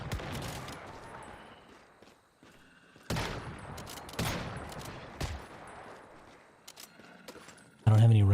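A grenade launcher fires in the Once Human video game, giving three sharp, loud blasts about a second apart, each trailing off into a decaying rumble, with a voice talking over the gameplay.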